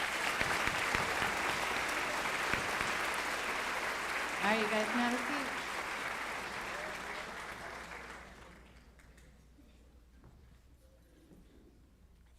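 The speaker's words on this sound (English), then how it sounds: "let's give a round of applause for our web leaders" Applause from an audience at an eighth grade school awards assembly, full and steady for several seconds before fading out, and a voice speaks briefly over the tail.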